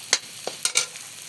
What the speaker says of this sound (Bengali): আমার এখন পেঁয়াজ আর রসুন ভাজা হয়ে গেছে